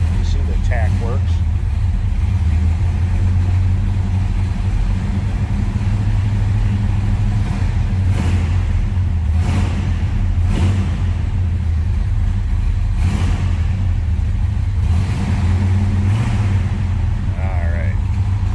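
A 1966 Chevrolet Biscayne two-door sedan's engine warms up at a steady, rumbling idle with occasional light revs, loud and close, while someone talks over it at intervals.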